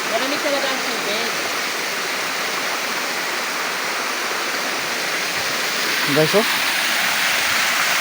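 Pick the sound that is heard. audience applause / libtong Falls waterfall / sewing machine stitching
libtong Falls waterfall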